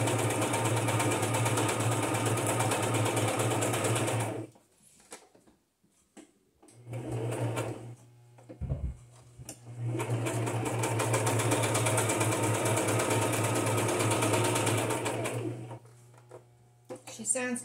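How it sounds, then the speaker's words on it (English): A sewing machine runs a zigzag stitch in two long, steady, close-up whirring stretches with a short burst between them and pauses where handling noises are heard. "I'm using the number 3 stitch, zigzag stitch on this machine"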